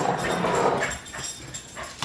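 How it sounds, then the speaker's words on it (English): A happy dog whimpers and whines in a home kitchen during chili bean canning, a close run of short high whines and yips, louder at first and then fading into softer whimpers. "We have a happy dog."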